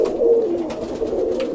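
A roller pigeon, a recessive red bird carrying blue, coos close by in a steady, continuous low murmur that rises and falls throughout, with no talking.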